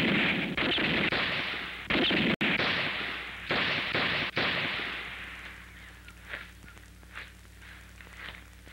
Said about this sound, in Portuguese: Cada um vai dar um tiro para riba em sinal de respeito pelo morto.